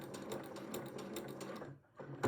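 Sewing machine stitching through a quilt-as-you-go block with batting, a close, steady rhythmic hum of needle strokes that stops abruptly near the end, followed by a brief clunk.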